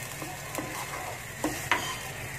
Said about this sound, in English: We saute until you can see that the oil is coming up already